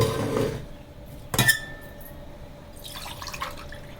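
Water splashes from a glass into a pot in short bursts, with a sharp glassy clink in the middle and a softer trickle near the end.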